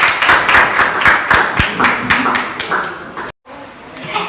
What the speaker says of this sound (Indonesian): Silakan dong kasih aplaus buat kelompok 3